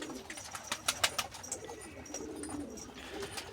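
Posta breed pigeons in a coop coo softly and flutter nearby, with a few sharper wing and scuffling sounds over a quiet background.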